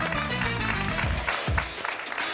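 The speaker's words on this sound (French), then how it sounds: "On les applaudit." Audience applause for arriving guests at an evening show, loud broadband clapping under music with voices rising through it.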